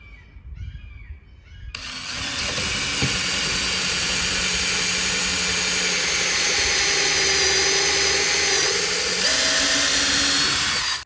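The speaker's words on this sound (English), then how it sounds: "I'll line it up where I need to drill my pilot hole" A power drill boring a pilot hole into a board, starting after a short quiet lead-in and then running as a steady, loud, continuous whine for several seconds close by, with no talk.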